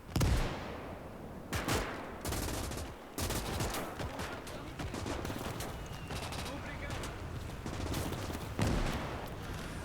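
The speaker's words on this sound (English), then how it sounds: "Is that a machine gun?" Machine gun fire in the Gates of Hell real-time strategy game, Soviet campaign: sustained, crackling automatic bursts and scattered shots with occasional heavier thumps, continuous and fairly loud throughout, with some voice mixed in.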